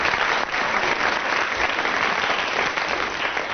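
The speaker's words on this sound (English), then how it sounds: "round of applause for Graeme Garden" A studio audience at a radio comedy panel show breaks into applause, a dense, even roar of clapping that holds steady throughout.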